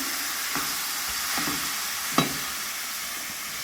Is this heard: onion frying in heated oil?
yes